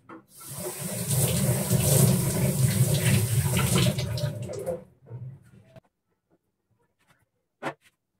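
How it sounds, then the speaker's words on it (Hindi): An eggplant is washed under a running kitchen tap: steady splashing water flows loudly for about five seconds, then the tap shuts off, leaving near silence with one small clunk. "में बैंगन धोना भूल गई थी तो इसलिए पहले बैंगन धो लेते"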